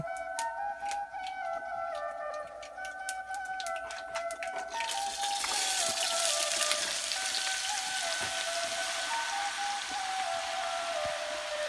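Chopped bottle gourd hitting hot oil seasoned with five-spice in a pan, breaking into a loud steady sizzle that rises after a few seconds and keeps crackling with no talk.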